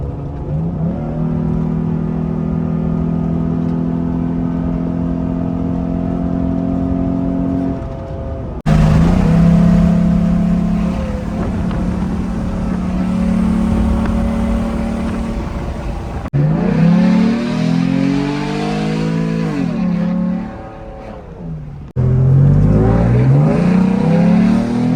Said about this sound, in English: the truck finally sounds a lot better now that it has a full exhaust, custom exhaust